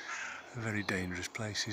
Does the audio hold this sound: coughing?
no